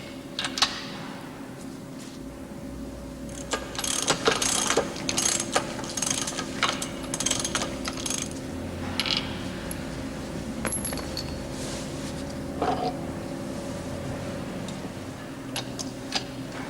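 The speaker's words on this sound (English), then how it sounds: "Remove the spring brake actuator by unscrewing the 2 retaining nuts." Ratchet wrench working the two retaining nuts off a MERITOR spring brake actuator on a brake caliper, giving repeated clicking pawl bursts with metallic clinks over a steady background hum, close and moderately loud.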